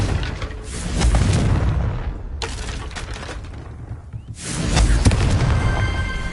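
In Hogwarts Legacy, a Confringo fire spell explodes as two heavy booming blasts, each with a rumbling, crackling tail, separated by a brief quieter lull.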